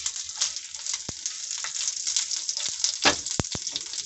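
Chana dal, cumin and crushed garlic sizzle and fry in hot oil for a tempering, a steady bright crackle with a few sharp pops and spatters standing out near the end.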